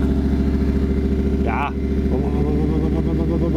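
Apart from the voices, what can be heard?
car engine idling, heard close at the exhaust, V8-like burble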